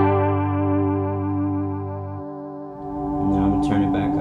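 Electric guitar through a modulation pedal with its width knob turned down for a Leslie-style rotary tone, sustained chords wavering gently, then fresh strums near the end, played alone and close.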